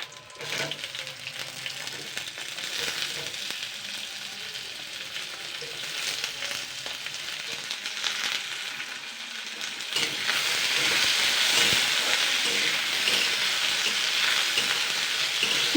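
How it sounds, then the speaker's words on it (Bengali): Potatoes and slit green chillies frying in a pan, a steady close sizzle with occasional stirring scrapes that grows louder and hissier toward the end, with no talking. "আমি আলুটা আগে হালকা করে ফ্রাই করে নেব"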